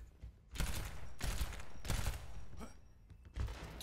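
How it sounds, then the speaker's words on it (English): Video game gunfire rattles in loud, close bursts of rapid shots, about four bursts separated by brief gaps. "shooting in this game"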